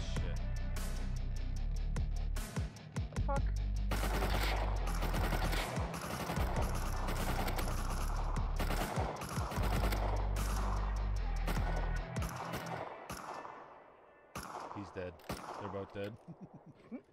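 Rapid bursts of video game gunfire crackle loudly through a trap base firefight, dense volleys and single cracks tumbling over each other, with players talking over the shooting.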